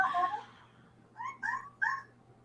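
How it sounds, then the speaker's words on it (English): A cat lets out three short, quick meows in close succession, right after a longer, louder tonal cry, with near silence between the calls. "You hear the cat? It's like, "Ow.""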